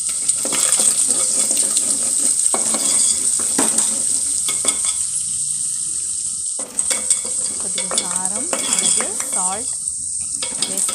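Raw prawns frying in a pan for a prawn and mango curry, a steady close sizzle with occasional stirring scrapes and clinks of utensils, and a brief quieter gap partway through.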